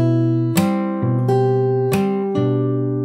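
A following section of a song picked fingerstyle on acoustic guitar, with several plucked chords in a gentle rhythm, each sustaining into the next, close-miked and solo.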